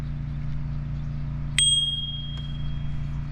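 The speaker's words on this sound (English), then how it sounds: "And then the other thing I don't like on the bike is the bell." Bicycle bell on an Ariel Rider Grizzly e-bike gives one bright ding that rings on with a lingering tone, then a faint tap, over a low steady hum.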